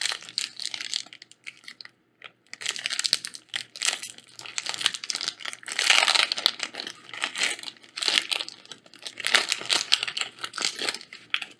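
Theros Beyond Death booster pack of Magic cards torn open by hand, with bursts of crinkling foil wrapper and tearing in uneven clusters, close and fairly quiet, separated by brief pauses.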